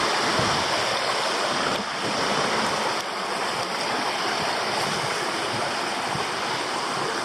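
Creek water tumbling down a cascade beside a hiking track at Black Glen Falls in Tasmania, a loud, steady rushing roar close by with no break or voices.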